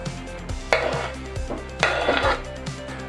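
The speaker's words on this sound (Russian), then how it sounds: "Аккуратно все перемешиваем." A spoon clinks and scrapes against a deep dish while warm chicken liver salad with onion and pepper is mixed, a steady run of light knocks with a couple of louder clacks, close and with no voices.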